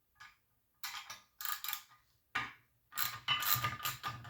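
A ratchet wrench with an extension turning a 13mm machine bolt in the back of an Adler Arms A-110 12 gauge lever-action shotgun receiver, close, crisp bursts of rapid clicking in several short strokes separated by pauses.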